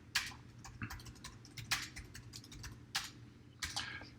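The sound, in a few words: typing an address on a computer keyboard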